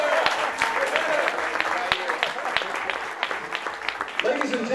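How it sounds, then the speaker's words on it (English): Wedding guests applaud at a reception, a crowd's steady clapping with some sharper individual claps standing out, while a voice speaks over it. "big round of applause for her brother"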